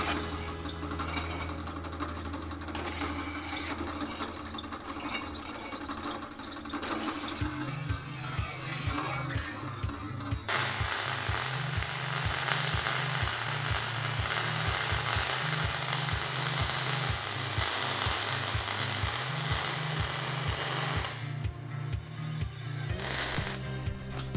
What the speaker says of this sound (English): These chamfer bits are pretty inexpensive and they make quick work of all the deburring.